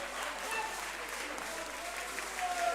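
Audience applause at a university quiz contest semi-final, a soft, steady patter of clapping from a hall, with voices faintly audible underneath.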